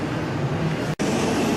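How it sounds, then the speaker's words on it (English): Dense road traffic of many trucks heard from a moving vehicle, a continuous loud broadband rumble of tyres and engines, cut by a brief dropout near the middle. "Nothing but trucks on trucks on trucks."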